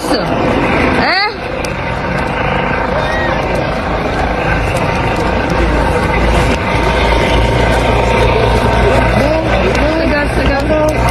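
Helicopter hovering over an angry farmers' protest in France where tear gas is being fired, a loud continuous engine roar under crowd noise and shouting, with a sharp swooping sweep early on.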